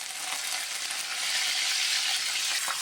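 Fenugreek seeds fry in hot oil in a kadai, producing a soft, steady crackling sizzle close by that grows a little louder midway.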